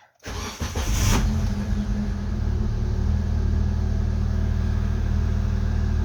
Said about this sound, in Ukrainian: Так, ну, автомобіль завівся, точніше запустився, працює.